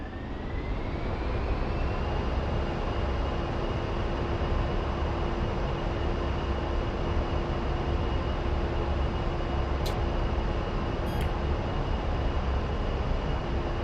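Twin turbofan engines of an A-10C in the DCS flight simulator spool up to military power, a rising whine that levels into a steady loud roar and continues unbroken, with no voices.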